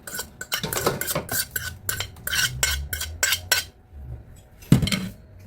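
Mashed lakatan banana goes into a mixing bowl with a quick run of clinks and scrapes of a utensil against the bowl, then a pause and a single louder knock.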